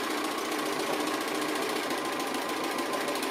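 Sewing machine stitching down an appliqué piece, a steady continuous mechanical whir with a fast rhythmic needle chatter running throughout at close range, no talking.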